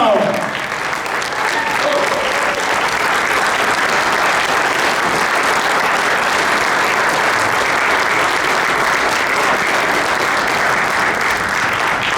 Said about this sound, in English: let's give a nice round of applause for our current, past, and future mayor, Joeseph DiMartino